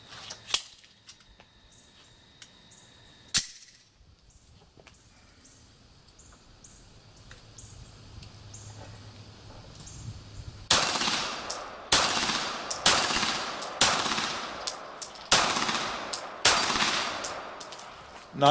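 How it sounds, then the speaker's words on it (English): Rapid pistol fire from a Beretta 92G Elite Compact at a shooting range: a few scattered distant shots first, then a fast string of about eight loud, sharp, close shots in quick succession. "I'm going to do the next 2 magazines rapid fire whether I hit them or not."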